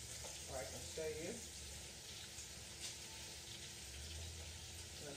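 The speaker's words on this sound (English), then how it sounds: "sear on that because I want some nice color on our Salisbury steaks" Salisbury steaks searing in a hot pan give a steady, moderately loud sizzle and crackle the whole way through, with a few brief clinks near the start.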